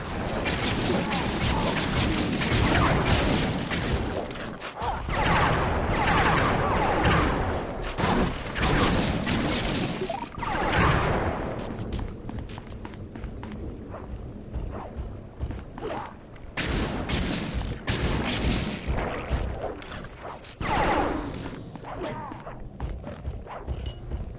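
Gunfire in the video game Sly 3 while shooting at the boss Mugshot: dense, loud, sustained bursts and booms running almost without pause, layered with other game effects.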